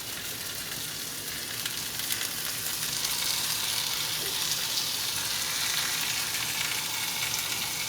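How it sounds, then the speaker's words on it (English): Pork chops frying in oil in a pan give a steady, dense sizzle that holds evenly and close throughout, with no voices over it. "That sizzling sound is perfect."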